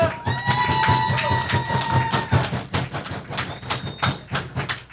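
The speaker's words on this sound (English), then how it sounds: "Round of applause for y'all" A wrestling show crowd cheers and whoops, then breaks into steady, brisk applause that grows choppier and more rhythmic, loud and close throughout.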